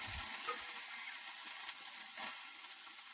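Wild greens in hot oil in a pan, giving a constant soft sizzle with a faint scrape of stirring and one small clink near the start, heard close and alone.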